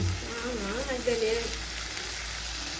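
Chicken frying in a pan for a Sunday chicken curry, a steady close sizzle with faint stirring, while a voice murmurs briefly over it.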